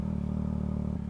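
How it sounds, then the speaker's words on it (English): A 2024 Yamaha MT-09 motorcycle fitted with a Kelpie aftermarket exhaust idles, a steady, low, throbbing rumble with a pulsing beat, heard close and continuous. "And you can hear it, that Kelpie exhaust."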